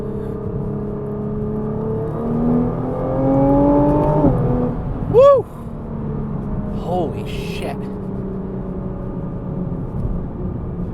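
Nissan GT-R T-Spec accelerating hard, a steady engine drone and rising whine building under an excited driver's voice, with a brief sharp exclamation mid-run.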